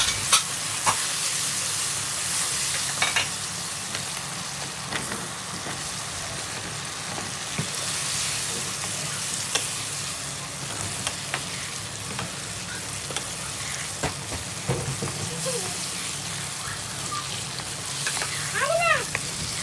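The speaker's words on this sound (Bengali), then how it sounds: "সব কিছু দিয়ে হচ্ছে কষিয়ে নেওয়ার পালা" Onion, salt, green chili, turmeric and ground coriander sautéed in a pan, a continuous oily sizzle with scraping stirs and occasional clinks of a utensil throughout.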